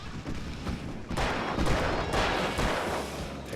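Alan Wake gunfire: dense, loud overlapping shots and booms rolling together into a continuous barrage, with a few sharper bursts standing out and no talking.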